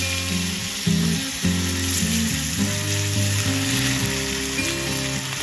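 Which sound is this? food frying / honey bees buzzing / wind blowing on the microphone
food frying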